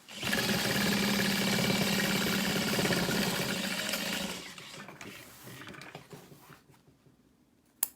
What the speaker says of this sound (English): I'm gonna stitch across